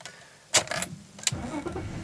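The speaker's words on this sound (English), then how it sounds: "So we're just starting the engine there." A BMW E39 5 Series engine starting: a quick cranking burst, then a brief catch and a low settling idle, with short sharp clicks or clunks around it. Close and moderately loud in a quiet space.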